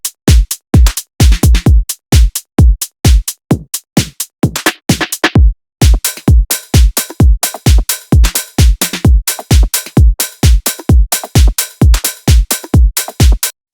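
Minimal bass drum and percussion loops after saturation and processing: punchy kicks on a steady four-on-the-floor pulse with crisp hats and clicks, loud and close, briefly dropping out midway, with no voices.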